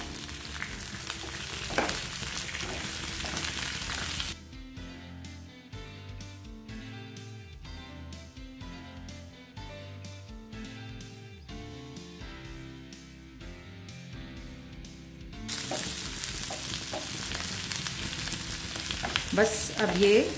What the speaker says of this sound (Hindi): साथ ही में हम ये शिमला मिर्च और प्याज, इनको भी हम 1 से 2 मिनट फुल गैस पर हम इनको भी थोड़ा सा लेते हैं